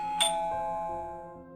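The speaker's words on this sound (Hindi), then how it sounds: "डोरबेल की आवाज सुनकर" A doorbell rings once in a Hindi audio story, a single bright chime that rings on and decays slowly in a quiet room.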